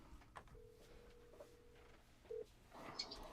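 A telephone being dialed gives a faint, steady tone that holds for over a second, then a short beep and some quiet handling noise, all low in level.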